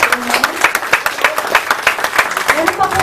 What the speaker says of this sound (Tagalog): Malakas na palakpak po sa Lord.